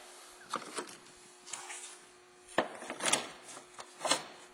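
A plastic splash shield on a Ford Focus is pushed and slid into place, giving a few scattered scraping rubs and soft knocks at close range, with quiet gaps between them.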